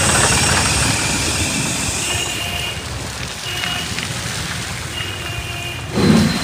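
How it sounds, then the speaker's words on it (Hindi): Light rain falling outdoors in a steady broadband patter, heard at moderate level and continuous, with a brief louder burst near the end. "हल्का हल्का बारिश भी हो ही रहा।"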